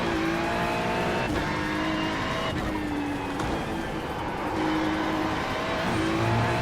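A Porsche GT3 race car in the iRacing game on the Nürburgring: a loud, continuous engine roar that rises and drops through repeated gear shifts and corners, with some tire squeal.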